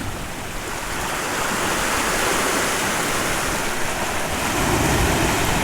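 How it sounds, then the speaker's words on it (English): Waves on a rocky Bonaire shore rush in over the rocks as a loud, close, continuous roar that swells slightly toward the end, with no voices. "Notice how she pauses when the water rushes in."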